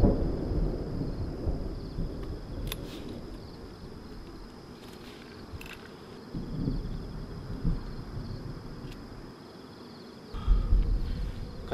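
Thunder rolls and rumbles through a camping site during a heavy lightning storm at a hill area with pine trees, with long low booms rising and fading continuously and insects faintly chirping behind.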